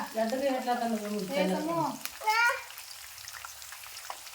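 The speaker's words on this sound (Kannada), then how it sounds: "ಕರಿಬೇವು ಬೆಳ್ಳುಳ್ಳಿ ಶೇಂಗಾ ಪುಟಾಣಿ ಎಲ್ಲ ಫ್ರೈ ಇಟ್ರಿ" Curry leaves, garlic, peanuts and roasted gram fry in hot oil with a soft crackling sizzle. Someone talks over it at first, then the frying continues alone.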